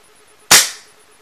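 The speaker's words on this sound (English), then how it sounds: "Cock it back. Push it forward. Fires." A single sharp crack from an airsoft L96 sniper rifle firing once, loud and close, with a quick decaying tail into near silence.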